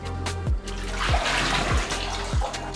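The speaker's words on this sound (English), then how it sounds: "10 minutes are up, and with that, I'm done with the bath." Water sloshing and splashing as someone climbs out of a bath, with broad watery noise throughout and four low thumping surges spaced about half a second apart, close and fairly loud with no talking.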